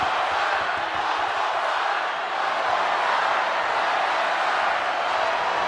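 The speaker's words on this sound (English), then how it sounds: "What a raucous crowd here tonight" Raucous crowd cheering and roaring at a wrestling event after a table spot, a dense, steady wall of voices that stays loud throughout.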